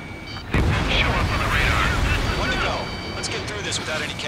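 A missile explosion in the Ace Combat 7 jet combat game, with an F-15E Strike Eagle in flight: a sudden loud boom that rolls into a sustained roaring rumble, with radio voices talking over it.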